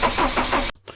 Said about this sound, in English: Can you just try cranking it again, just to see?